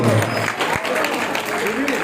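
An audience claps at a devotional bhajan program honoring a temple donation, a steady wash of applause lasting about two seconds with a voice speaking over it.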